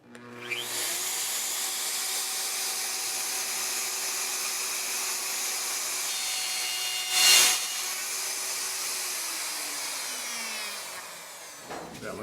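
A wood router cuts a rosette channel into a tenor guitar soundboard, a steady high whining drone running for about ten seconds with one brief louder surge near the middle before winding down.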